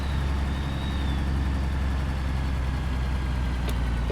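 Peterbilt cattle-hauling truck in American Truck Simulator, a steady low diesel engine drone that holds constant and loud throughout, with no voices.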